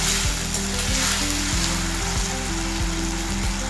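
Potatoes frying in oil in a pan for a mustard-seed rice dish give a steady, close, dense sizzle and crackle that runs unbroken throughout, over a low humming tone in the background.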